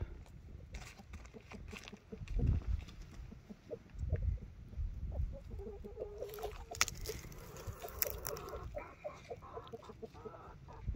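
Backyard chickens cluck intermittently near a cheap greenhouse with scratched fabric covering, their short calls scattered over a low rumbling outdoor background with occasional rustling.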